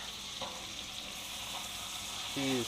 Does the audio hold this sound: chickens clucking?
no